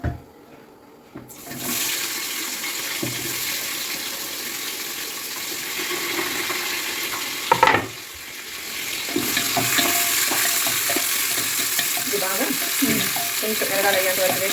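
Tempering for country chicken sizzles loudly in a pan with spices, cardamom, curry leaves, onion, green chilli and cashews, a continuous close frying hiss with a sharp surge of spitting midway.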